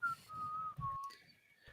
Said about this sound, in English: Do you not need your vocal cords to whistle?